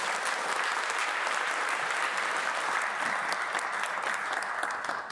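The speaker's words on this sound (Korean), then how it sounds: "우리 한번 감사 박수 드리고 시작했으면 좋겠습니다" Steady, even applause from a church congregation thanking the choir and ensemble, a dense wash of clapping that holds at moderate level for the whole stretch with no talk.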